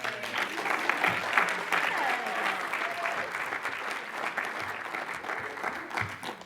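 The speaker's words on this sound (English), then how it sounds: "give her a round of applause" A convention audience applauds a first-time speaker at a recovery housing event, a sustained wash of clapping with a few whoops and faint voices mixed in, fading slightly toward the end.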